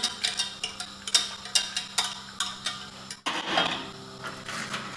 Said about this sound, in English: So just whisk that nice and smooth now.